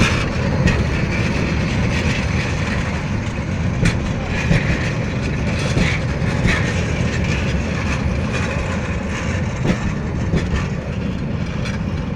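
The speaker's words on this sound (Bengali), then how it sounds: "ঢাকা কমলাপুর থেকে ছেড়ে আসা ট্রেনটি বিমানবন্দর হয়ে জয়দেবপুর স্টেশনে দাঁড়াবে" A Jamalpur commuter train arriving at Joydebpur station produces a steady, loud rumble of wheels and rail clatter with occasional metallic clicks, continuous throughout without speech.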